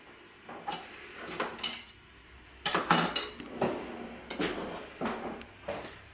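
Metal spoons clink and scrape against plates and bowls during a meal of vegan bakery food in Kraków, a scattered series of sharp taps and clatters at close range.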